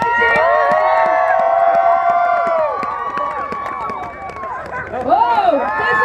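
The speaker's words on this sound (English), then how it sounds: "lots of cheering for this one, guys" A crowd cheers at a Yukon Sourdough Rendezvous race, with loud overlapping whoops and shouted voices, some high and drawn out. Close excited shouts rise again near the end.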